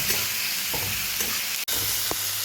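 Capsicum frying in a pan, a soft steady sizzle with a few light stirring scrapes and one sharp click partway through, no voices.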